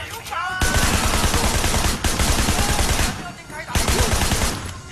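Heavy shotgun gunfire in the open-world action game Sleeping Dogs: loud, dense volleys of overlapping blasts fill the scene, broken by short pauses, with shouting voices mixed in.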